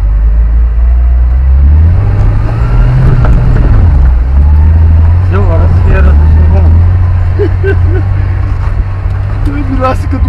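A car engine drones loudly in second gear, a steady low rumble that rises and dips slightly, with voices talking over it.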